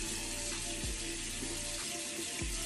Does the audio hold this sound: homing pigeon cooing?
no